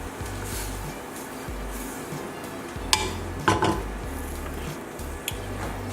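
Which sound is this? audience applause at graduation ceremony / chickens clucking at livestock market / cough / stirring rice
stirring rice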